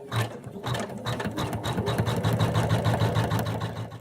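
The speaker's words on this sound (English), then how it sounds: "I'll now stitch out the outline for my eyes" An embroidery machine stitches an eye outline through layered fabric in a hoop, a close, continuous rapid tapping whir with a fast even rhythm throughout.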